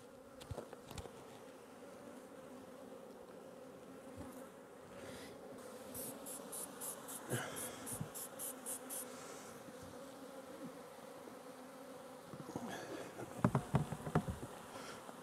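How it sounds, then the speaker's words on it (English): Steady droning buzz of many honey bees, a close, continuous hum with a brief rhythmic clicking partway through and some rustling near the end. "spraying your bees with bleach"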